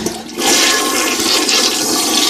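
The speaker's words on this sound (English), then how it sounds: "we're going to flush all the water out of there" A toilet tank flushes with a loud, close rush of water that starts after a brief quiet moment and keeps churning steadily, with no talking.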